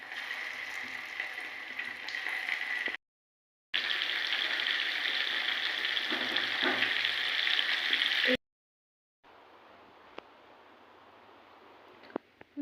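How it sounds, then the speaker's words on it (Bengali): Chicken frying in a pan gives a steady, close sizzle and crackle in bursts, broken by short silent gaps, with a quieter stretch of hissing near the end and no talking. "বাকি চিকেনগুলো সেম প্রসেসে ভেজে নেব।"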